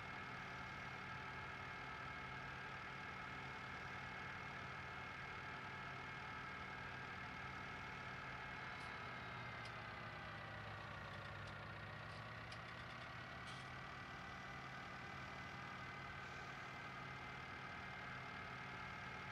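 Tractor engine idling in the Farming Simulator video game, a steady, faint, low drone with a continuous hum that dips briefly in pitch midway, alone without voices.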